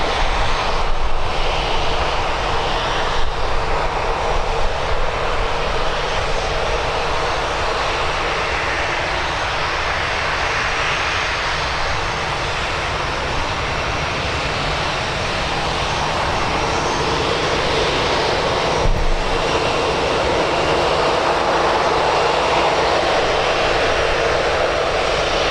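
A Ryanair aircraft departing Birmingham Airport, its engines producing a loud, sustained roar that holds steady for a long stretch with little variation, no voices over it.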